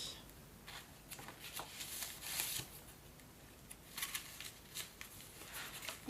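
Paper pages of an altered handmade book, one aged with coffee and with notebook strings left on, rustle and flip open in several soft bursts, close and quiet, with no talking.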